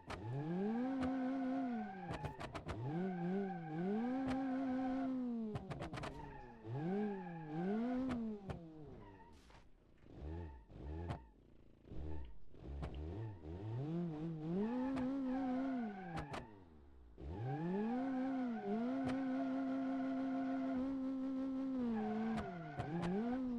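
A badly damaged car, one wheel facing the wrong way, drives in BeamNG.drive; its engine whines and revs up and down in repeated sweeping pitches with brief lulls, loud and continuous.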